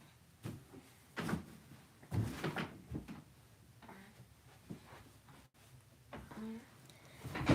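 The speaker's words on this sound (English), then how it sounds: "I gotta close this door." A door is closed indoors with a run of close wooden knocks, bumps and clatters at uneven intervals, fairly quiet overall, and a louder thump rising at the very end.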